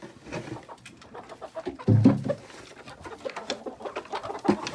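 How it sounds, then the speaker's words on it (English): Chickens in a backyard coop on a snowy New Hampshire evening cluck and murmur in a soft, irregular chatter, with one louder burst near the middle, close by and without talk. "Hello, chickies!"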